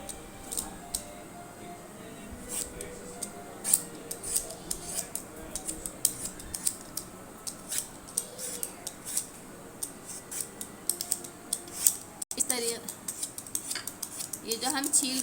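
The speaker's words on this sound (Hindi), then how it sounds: "ये जो हम छील रहे हैं इस तरीक़े से हम अपनी सारी कैरियों को छील लेंगे।" A knife scrapes and clicks repeatedly while raw green mangoes are peeled and cut, with quiet irregular scraping ticks throughout and speech in the background.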